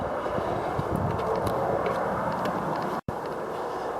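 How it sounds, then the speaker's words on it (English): Highway traffic near a 1970s North Dallas garage sounds as a constant broadband rumble and whoosh of passing vehicles at a moderate distance, briefly cutting out for a moment. "That's the sound of the highway."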